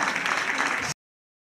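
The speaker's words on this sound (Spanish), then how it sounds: "Un fuerte aplauso para Javier y estes músicos que están aquí." A holiday gala audience gives the musicians a short burst of loud, dense applause that cuts off abruptly after about a second.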